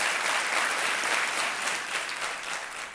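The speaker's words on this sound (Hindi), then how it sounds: "हम तालियां और अभिनंदन करना चाहते हैं आपका" A studio audience on a TV quiz show applauds in a dense, steady wash of clapping that holds throughout and tapers slightly at the end, with no voices over it.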